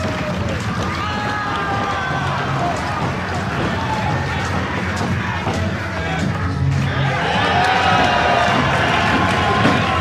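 An independent wrestling crowd in Cleveland roars steadily through an indoor match, with whoops and shouts rising near the end, while a commentator talks over the noise.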